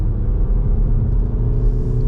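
A 2021 Škoda Karoq 2.0 TDI 150 HP 4x4 with DSG gearbox pulls hard in sport mode uphill at night, heard from inside as a deep, steady engine and road rumble, loud and continuous with no talk.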